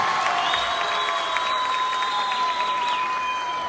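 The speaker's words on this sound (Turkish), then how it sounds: "bir alkış alabilir miyim?" Audience applause at the opening ceremony of the Akhisar Equality and Roma Association, a dense, steady wash of clapping filling the room, with a faint sustained tone running beneath it throughout.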